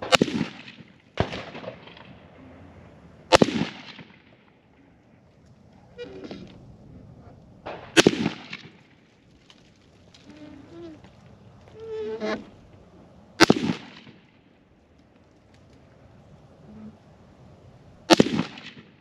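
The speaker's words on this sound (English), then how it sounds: "We're gonna fire three groups of 5 and see how she does." IWI Tavor 7 rifle firing groups at an outdoor range, with Federal Gold Medal Match 175 grain and Barnes Vortex 168 grain ammunition; sharp loud shots come one at a time several seconds apart, with quiet handling noise between them.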